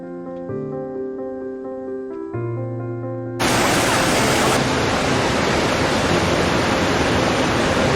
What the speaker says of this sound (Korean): 이과수 폭포의 하이라이트인 악마의 목구멍을 다시 한번 감상을 하시면서 오늘 이과수 폭포 여행을 마무리해 볼까 합니다.